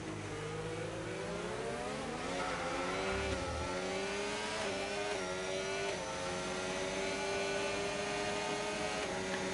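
Race car engines in a sim racing game at Belgium, revving and shifting through gears as the car brakes for a corner, with steady loud engine drone and rising, falling harmonic whine throughout.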